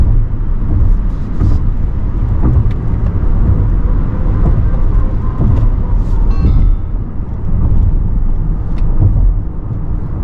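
A loud, steady road rumble from inside a moving electric car, a Hyundai Ioniq 6, cornering without braking, with tire and body noise and a few brief squeaks and clicks.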